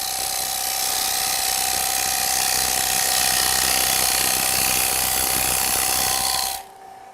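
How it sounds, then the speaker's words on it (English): A wood-turning scraper cutting on a lathe in traditional scraping mode makes a continuous loud rasping whir with a steady high whine, holding for over six seconds before stopping sharply into near quiet. "So again, in traditional scraping mode, in order to remove material,"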